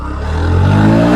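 A Honda Shine motorcycle accelerating in first gear, its engine note rising steadily in pitch and growing louder, close and continuous with no voices.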